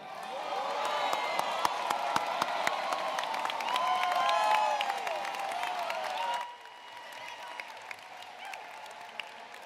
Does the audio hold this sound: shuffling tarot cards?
no